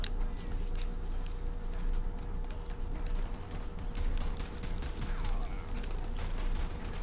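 Rapid pistol fire in the game Wonderlands, a steady dense string of sharp shots with clicking mechanical sounds mixed in over a constant busy background.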